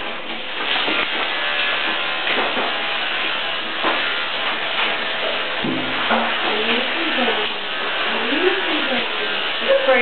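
Electric clippers drone steadily while giving a Schnauzer named Houston a rough cut before grooming, a constant close buzz with slight shifts as the blade moves through the coat.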